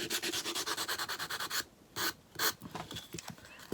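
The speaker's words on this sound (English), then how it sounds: "now I'm going to take my finger sander, and I'm just going to distress this wood back some." A finger sander distresses a wooden piece in quick back-and-forth rasping strokes, evenly pulsed for the first second and a half, then broken into a few separate louder scrubs, close and with no talking.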